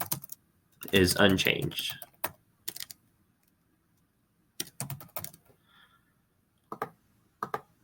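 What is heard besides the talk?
typing on a computer keyboard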